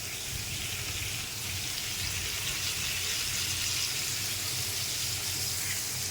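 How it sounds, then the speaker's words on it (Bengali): Soybean chunks, potato and papaya frying in a pan with onion, garlic and ginger paste, giving a steady, even sizzle throughout with no talk. "এটাকে ভেজে নিতে হবে কিছু সময়"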